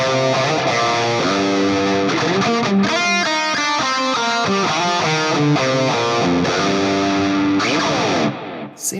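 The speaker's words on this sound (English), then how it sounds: "Scene number 4 is that same crunch preset, but we added in the Super Overdrive" A crunchy, overdriven electric guitar plays chords and single-note riffs through a Fractal FM3 with Super Overdrive into a Friedman V30 cabinet, with delay and reverb on, loud and close, ending with a brief fade.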